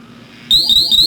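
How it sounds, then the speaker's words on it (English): An MGC gas monitor goes into its pump block alarm after its inlet is covered with a finger, sounding a loud, piercing electronic tone that begins abruptly and repeats in rapid beeps with no talk. "place your finger over the opening and the monitor will go into alarm."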